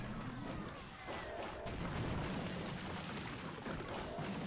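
Mortar fire in a mobile tower-battle strategy game, heard as a dense, steady wash of low rumbling booms and impacts with no clear separate shots.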